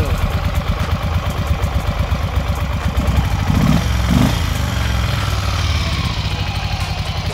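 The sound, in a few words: Ducati Monster 400 motorcycle engine running, one cylinder misfiring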